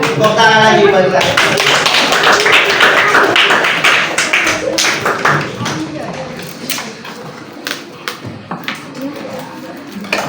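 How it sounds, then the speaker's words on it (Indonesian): Children in an elementary school classroom clap their hands along with a teacher, a dense run of claps that thins into scattered, uneven hits toward the end, with voices mixed in. "Tepuk tangan lagi balik lagi."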